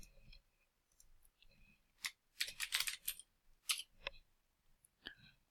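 Keys clacking on a computer keyboard while a field is filled in ArcGIS Pro software, a short burst of close, quiet keystrokes with a few scattered clicks before and after.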